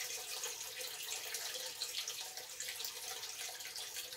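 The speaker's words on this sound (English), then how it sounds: "listen to the water coming in there" Water pours steadily into a sump pit with a continuous bright, splashing rush, like a tap running at full strength, with no talking over it.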